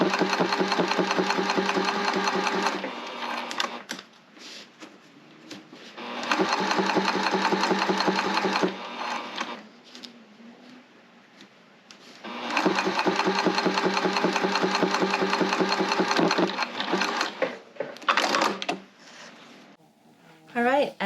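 A sewing machine topstitches along a recessed zipper on a homemade tote bag, running in steady bursts of about three to five seconds separated by pauses, fairly loud and close, with a person talking in the gaps.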